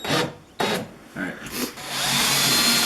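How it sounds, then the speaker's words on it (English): A power drill bores pilot holes in wood, with short bursts of rough rubbing and grinding that give way to a sustained whirring bite, close and loud. "Now make sure when you're doing those pilot holes, make sure it drills nice and crooked."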